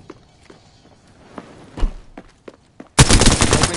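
Gunfire in the video game Apex Legends: faint scattered thumps and footsteps give way to a sudden loud, sustained burst of automatic fire in the last second.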